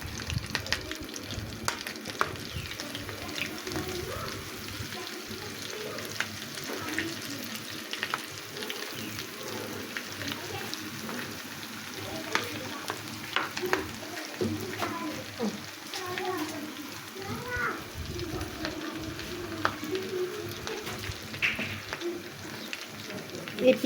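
Egg jali kebab, a lacy egg-coated kebab, frying in oil in a pan, giving a steady close crackling sizzle that runs throughout, with faint scraping and turning sounds and a voice speaking now and then.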